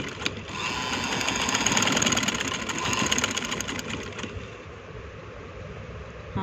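A sewing machine stitches a strip onto a hem, a steady close rapid whir with a fine rhythmic needle chatter, easing off after about four seconds into a quieter hum.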